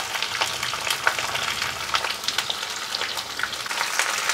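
Cauliflower frying in a pan over a medium gas flame, crackling and sizzling steadily with small popping bursts, close and alone.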